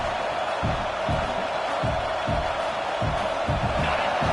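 Stadium crowd in a Madden football video game roaring steadily for the defense on a fourth down, a dense continuous cheer with rhythmic swells, fairly loud, with a commentator's voice faintly under it.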